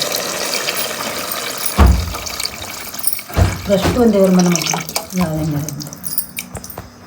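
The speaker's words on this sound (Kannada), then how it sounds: "ಈ ತಪ್ಪಲಲ್ಲಿ ನೀರು ಹಾಕ್ತಾಯಿದ್ದೀನಿ" Water pours steadily into a metal pot for tomato biryani with a splashing, filling rush, while a voice speaks over it.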